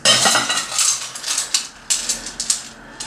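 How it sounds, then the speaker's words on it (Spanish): Crushed ice is tipped into a cocktail, making a close run of bright clinks and rattles in quick bursts against the glass or shaker over about three seconds. "Añadirle hielo picado. Le echo hielo picado."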